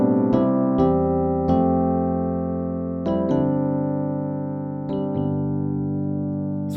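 Piano plays the main riff of a song: sustained, ringing chords with a few struck notes layered over them, steady and close, with no voices.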